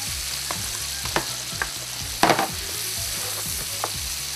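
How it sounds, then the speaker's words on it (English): Onions frying in bacon fat for chicken carbonara, a close continuous sizzle broken by a few clinks and scrapes of a utensil on the pan, with no speech. "we're gonna have to throw the onions in, let them cook down in the bacon fat"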